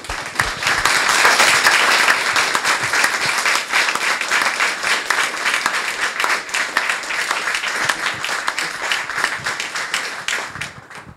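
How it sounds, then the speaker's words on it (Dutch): An audience gives loud, sustained applause at a book presentation event, a dense continuous roar of clapping that holds strong throughout and eases slightly toward the end. "mag ik een oorverdovend applaus"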